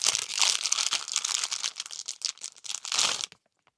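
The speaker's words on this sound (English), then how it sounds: "This also came in just a plastic bag" A plastic shipping bag for a hair-curling product is crinkled and rustled close up, with dense irregular crackling for about three seconds before stopping abruptly.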